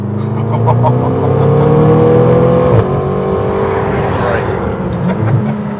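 A McLaren supercar engine cruising steadily in 7th gear at about 60 km/h, a smooth low drone with a brief gear shift blip midway, heard from inside the cabin under people talking.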